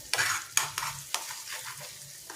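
A spoon stirs egg and onion masala frying in a pan, giving a few distinct scraping strokes over a soft, steady sizzle, close and fairly quiet.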